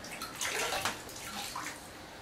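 A sponge squelches and sloshes while soaking up water inside a toilet tank during a fill valve replacement, giving continuous close, splashy gurgling with no talking.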